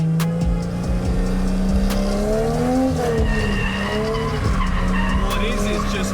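A drift car enters a corner with a power-over entry, its engine revving loudly while the tires squeal and skid in long wavering tones, close and continuous.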